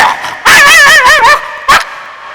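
A voice imitates a dog, with a loud, wavering, yelping bark-howl lasting about a second, then one short sharp yip after a brief pause, close and alone.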